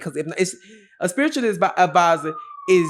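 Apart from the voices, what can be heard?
sirens downtown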